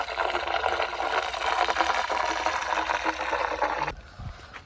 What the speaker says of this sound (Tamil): இதுதாங்க வாய்க்கால், மேட்டூர் வாய்க்கால் தண்ணி